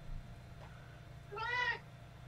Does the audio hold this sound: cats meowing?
yes